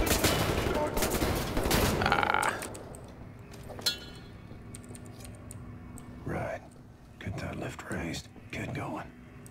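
Gunfire in Wolfenstein: The New Order: a dense burst of rapid shots up front, then quieter scattered impacts, with someone talking over the later part.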